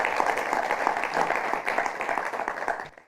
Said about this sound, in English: all the contenders should give themselves a huge round of applause